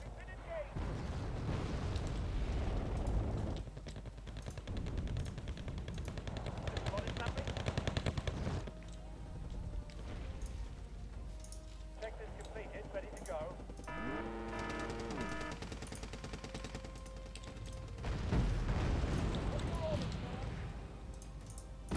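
Missile and weapons fire in the Wargame Red Dragon strategy game, with sustained machine-gun rattle, artillery booms and explosions rolling through most of the stretch, loud and layered, with tonal launch whooshes in the middle.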